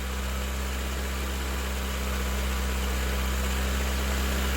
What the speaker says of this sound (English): So let's start the car and then we'll check the charging system